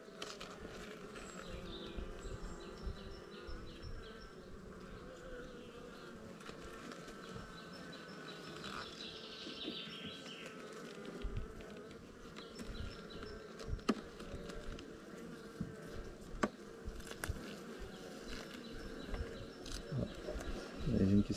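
Honeybees buzzing around an open hive while a beekeeper inspects the frames, a faint steady hum close by, with occasional handling knocks and a person speaking quietly.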